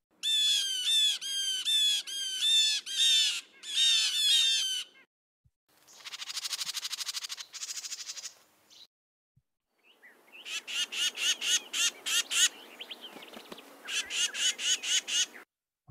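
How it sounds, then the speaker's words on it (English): Small birds mobbing an owl give bursts of harsh, rapid alarm calls in three separate sequences, some scolding and chattering, others sharp and repeated, loud and close with brief silences between. "So here's 3 examples of birds saying, there's an owl, let's get it."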